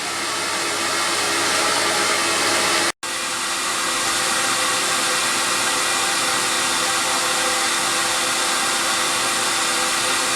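A CamVac dust extraction system vents its air outside, giving a steady, loud broadband whoosh that cuts out for an instant near the start and then resumes unbroken.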